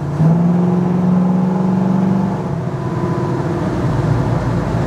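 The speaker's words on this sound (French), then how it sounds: "on sent qu'il y en a sous le capot et la sonorité du V8 est bien présente aussi, c'est plaisant" A V8 engine in an American car pulls hard under acceleration, a loud, steady low drone with a rising tone early on, heard from inside the cabin without talk.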